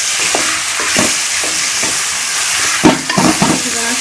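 Tomato paste, green chillies and spices frying with a steady loud sizzle while a spoon stirs through them, scraping and clacking against the pan in repeated strokes, with no talking.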